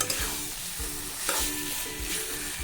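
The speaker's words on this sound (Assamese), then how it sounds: "এতিয়া ইয়াতে মই আলুখিনি এড কৰিম। লৰাই দিম অকণমান" Potatoes stirred and fried in a pan for a fish-head dish with sun-dried taro greens and tomatoes, a steady sizzle broken by repeated scraping stirs at a regular rhythm, close and fairly loud with no talking.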